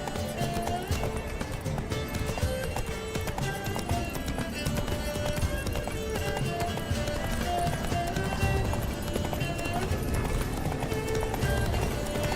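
Hooves of a horse galloping in The Witcher 3 video game, a steady quick clip-clop running the whole time under a dense, loud layer of game music and effects.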